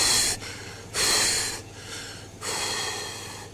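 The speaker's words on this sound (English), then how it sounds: "the deputy can be heard breathing heavily, still waiting for deputies to arrive" A police deputy breathing heavily, caught on a recording, with three or four loud ragged breaths and snorts separated by short pauses, close to the microphone and with no talk.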